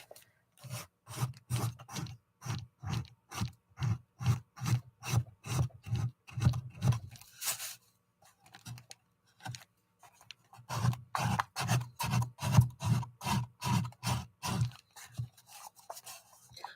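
A small steel block wrapped in sandpaper rubs back and forth along a cut edge in a steady rhythmic series of close, raspy strokes, pausing briefly midway before resuming.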